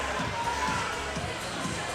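A crowd at a high school hockey game jeers a call from the rink stands, a dense, sustained roar of voices with scattered shouts. It sounds distant and fills the whole span without pause.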